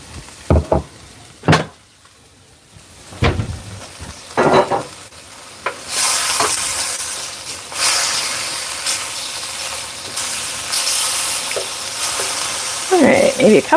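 Beef stir-frying with peanuts in a hot pan gives a loud, continuous sizzle and hiss, broken by clattering stirring strokes near the start and end.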